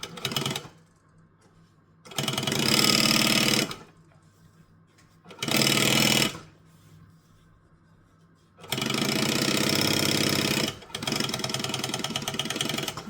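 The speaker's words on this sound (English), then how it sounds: "we're going to push this seam underneath the exterior and then top stitch it down" A sewing machine topstitches a seam on a boxy zippered pouch, running in four bursts of a few seconds each, with quiet pauses between them and a longer stretch of stitching near the end.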